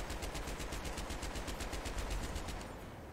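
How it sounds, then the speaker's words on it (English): Sustained machine-gun fire in a multiplayer military shooter, a dense, continuous rapid burst of shots close and loud for about three seconds, tailing off slightly at the end with no talk over it. "Machine gun on second floor."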